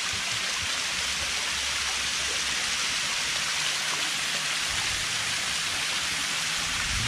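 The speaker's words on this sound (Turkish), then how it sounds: "Doğal şelale." Water pours down a natural travertine waterfall at Pamukkale, a dense, steady rushing hiss that stays loud and unbroken throughout.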